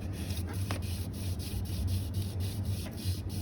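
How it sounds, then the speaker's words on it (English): A Mustang GT engine crankshaft is polished by hand to remove imperfections from the metal, making a steady, close rubbing and scrubbing with a quick back-and-forth rhythm and a low hum underneath, with no talk. "we're just polishing the crank, trying to get any imperfections out of the metal"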